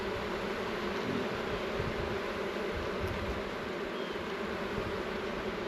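A honey bee swarm arriving in a tight space makes a dense, continuous buzzing drone that holds steady and fairly loud throughout, with no voices over it.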